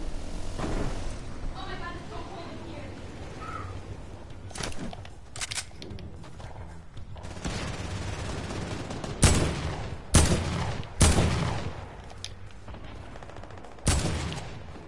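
Sniper rifle fire in a shooter video game: several loud, sharp cracking shots spaced a second or two apart, each with a short booming tail, over a busy background with a voice talking early on.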